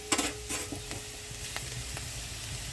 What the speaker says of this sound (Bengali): একটুখানি হালকা করে নাড়াবো। হালকা এরকম লাল লাল হলেই দিয়ে দেবো পেঁয়াজ